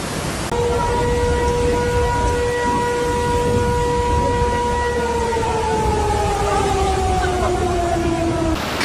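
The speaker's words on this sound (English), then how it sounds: "emergency sirens echoed through the rain-soaked sky" A wailing emergency siren holds a steady tone that slowly falls in pitch, over a constant hiss of heavy rain.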